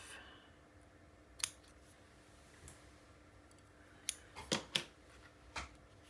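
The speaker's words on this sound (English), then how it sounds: "And then we're going to snip this one off." Scissors snip a paper piece for a Christmas mini album, giving one sharp cut and then a quick cluster of three or four crisp snips, close and quiet, with no talking.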